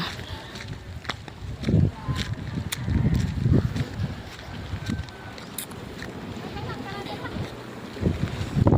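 Sea waves wash against a beach with steady broadband surf and gusts of wind buffeting the microphone, plus scattered low thumps; no speech is heard during the stretch.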